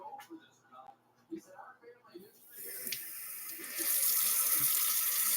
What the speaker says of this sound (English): I'm going to let this get to hot so I can wash my hands under hot water.